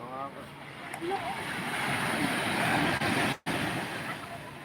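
Ocean surf at a beach in Barangay Calayo, a steady broad wash of breaking waves with wind buffeting the microphone, continuous and fairly loud with a brief dropout near the end.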